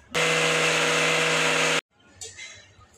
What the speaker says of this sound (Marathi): तर ना ह्याला वाटून घेऊया, म्हणजे की पूर्ण बारीक फाईन पावडर करून घेऊया ह्याला.